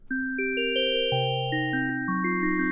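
Synthesized bell tones from a bells preset in the Caustic 3 iPad app ring in a sequence of overlapping chimes, each note sustaining and stacking into a shimmering chord.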